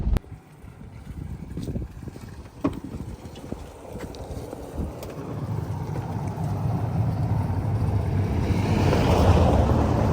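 A fast-flowing spring on a Portuguese homestead, rushing water that swells into a steady close roar, with a few sharp knocks early on and no talk.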